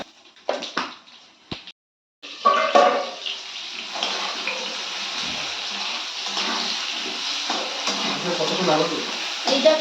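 Dried chillies, bay leaf and five-spice crackle in hot oil, a brief quiet pause giving way to a loud, steady hiss of tempering that carries on with faint spits, close by.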